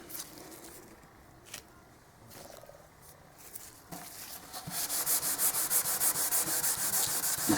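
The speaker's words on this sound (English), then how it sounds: "Just get those 3M stripping pads, a medium coarseness, and just smooth it out." A medium-coarseness 3M stripping pad rubs over thick gel stain on a kitchen cabinet, quiet scuffing at first, then a louder run of steady, rhythmic back-and-forth strokes close by.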